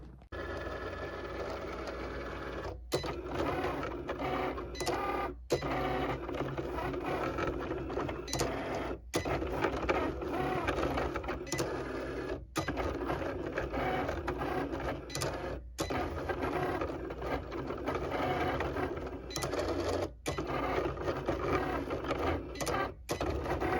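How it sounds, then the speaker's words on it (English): A printer runs steadily for over twenty seconds, producing a busy mechanical whir and rattle broken by short pauses and clicks as a design prints out, heard alone without talk. "So while my design is printing out"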